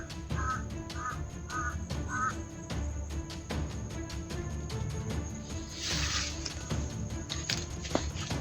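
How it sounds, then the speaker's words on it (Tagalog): Several harsh caws ring out in a quick series early on, over a busy outdoor background with rhythmic ticking and insect-like buzzing. "tingog yung uwak"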